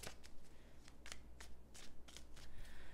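Tarot cards are shuffled in quick, crisp riffling bursts, several in a row, close and clear with no talking.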